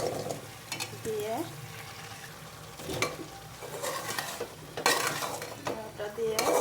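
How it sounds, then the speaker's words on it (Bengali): Chunks of bottle gourd and chicken are turned over in a hot pan, with a continuous sizzle beneath repeated scraping and clattering of a spatula against metal, close and prominent, while a low hum runs underneath. "লাউটা দিয়ে ভালোভাবে একটু নাড়াচাড়া করে নেব"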